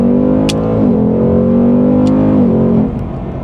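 A 2021 Ford Mustang Mach 1 pulls hard in first gear, its loud V8 roaring close and steady, with a brief dip in pitch before it climbs again and then eases off near the end.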